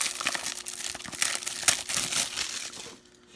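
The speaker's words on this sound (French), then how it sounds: "Je vais le déballer" Plastic shrink wrap crackling and crinkling as a Stephen King 5-Movie Collection Blu-ray box set is unwrapped, steady close rustling with a few sharper tears, fading out at the end.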